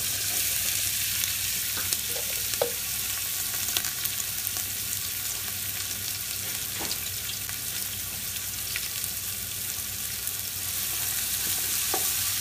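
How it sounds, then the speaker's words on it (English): Two diced white onions sizzle in hot vegetable oil over medium heat for Persian ab-goosht, a steady loud frying hiss with occasional faint clicks of stirring, no voices. "once your oil is hot, go ahead and add in 2 diced white onions"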